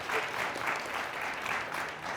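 A studio audience at a quiz show claps in a sustained, even burst of applause, dense and fairly near, with no voices over it.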